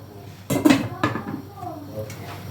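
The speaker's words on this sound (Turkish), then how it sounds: "Şimdi kapağını kapatalım." A metal lid clanks down onto a cooking pot in a home kitchen, a loud clatter followed by softer rattles as it settles, with someone speaking over part of it.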